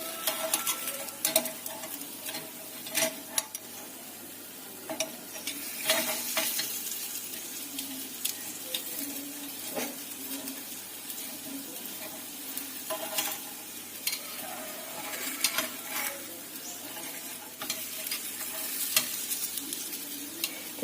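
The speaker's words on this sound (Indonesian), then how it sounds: "Kita panggang sampai kuning keemasan dan atas bawahnya itu matang." Small market snack frying in a pan, a soft continuous sizzle broken by repeated scraping and tapping as a spoon flips and turns the pieces, fairly quiet and close.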